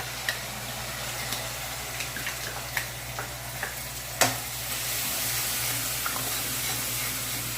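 Ginger garlic paste with Kashmiri red chili sizzles steadily in a hot pan of oil, with light clicks of stirring and a sharper burst as more goes in, no voices over it.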